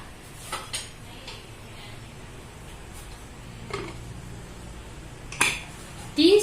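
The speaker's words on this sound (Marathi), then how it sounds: "झाकून ठेवू आता" A lid goes onto a pressure cooker of prawn rice in a home kitchen: faint metallic clinks early on, then two sharper clanks of metal on metal near the end, in otherwise quiet surroundings.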